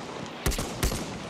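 Machine gun fire in Battlefield 1 on the Tsaritsyn map, two sharp, close shots about a third of a second apart over a busy battlefield background.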